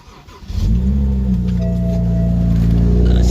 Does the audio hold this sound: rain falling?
no